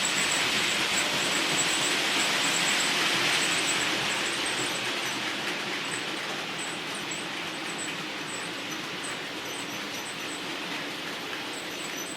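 Model railway train running on track, recorded from an onboard GoPro camera at front or rear, giving a steady loud rushing rumble with fine rhythmic rail clicks that eases slightly over twelve seconds.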